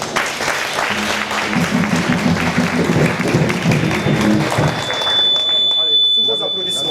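An audience at a church celebration of a priest's tenth ordination anniversary breaks into loud, sustained applause with voices mixed in, then fades into a lingering high electronic tone at the end.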